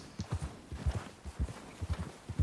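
An Arabian thoroughbred horse walks in Red Dead Redemption 2, its hooves clip-clopping in a steady, close rhythm of repeated thuds over a soft ambient background, with no voices.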